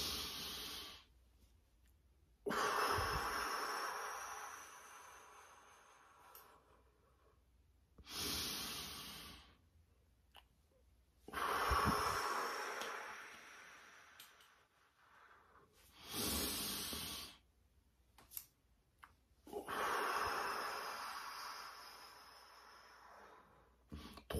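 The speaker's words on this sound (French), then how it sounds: "Trois fois l'exercice de respiration." Repeated deliberate breathing exercise done three times, with loud hissing inhales and exhales in bursts separated by short pauses, close to the microphone and with no talk.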